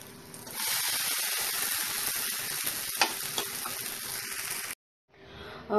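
Semolina dosa (amboli) sizzling in oil on a hot pan, a steady bright crackle with a few scraping clicks from turning, cut off briefly near the end before resuming.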